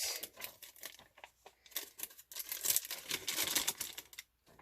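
Tracing paper on a vintage journal page being handled, crisp crinkling and rustling in irregular bursts with brief pauses, close and fairly quiet, no talking.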